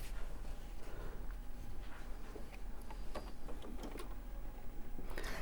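A sewing machine stitches quilt pieces together in a continuous rapid whir with faint ticking, running steadily and fairly quietly throughout.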